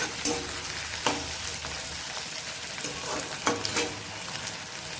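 Onions frying in a pan together with mixed-in mutton, with a continuous crackling sizzle and a few sharp stirring scrapes.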